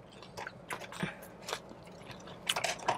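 Someone chewing crunchy fried chicken at close range, with scattered wet crunches and soft biting sounds, irregular and moderately loud, no speech.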